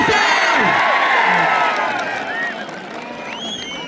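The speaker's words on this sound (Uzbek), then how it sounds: "Bir qarsak bo'lsin polvonlarga." A crowd cheers and shouts for wrestlers at a traditional wrestling event, a loud, lively wash of whoops and voices that gradually fades slightly, with whistle-like cries over it.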